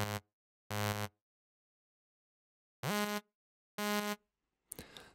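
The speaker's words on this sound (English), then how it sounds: "Listen for the characteristic sharp sound when I disable all processing and pitch it up" Unprocessed, pitched-up analog synth saw wave oscillator in Ableton: four separate bright, buzzy held tones with silent gaps between them, then a short noisy burst at the end.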